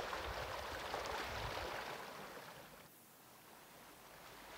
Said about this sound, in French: Offrez-vous à présent de vous laisser bercer par le son des vagues.